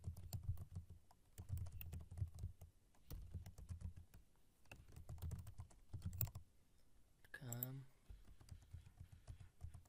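Rapid keystrokes on a computer keyboard as a password is entered, a steady run of light taps in quick bursts, close and fairly faint, with a short voiced sound breaking in near the end.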